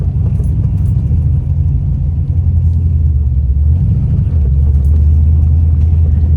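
A Barracuda's engine idling with a deep, loud, steady rumble heard from inside the car, the low drone shifting pitch slightly partway through.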